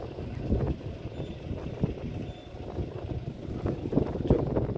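Wind gusts across a mountaintop lake at Homyeong Lake in Gapyeong, a rough, low rumbling buffet on the microphone that rises and falls without pause.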